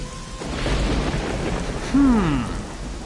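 Steady rain pours across a scene in the video game Dragon Quest 11, a dense hiss with low rumbling underneath and a brief tonal game sound near the end.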